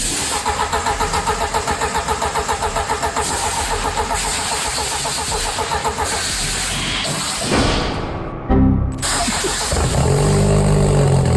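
A BMW car engine cranks and fires up during repair work, settling into a loud, steady running rumble that swells near the end.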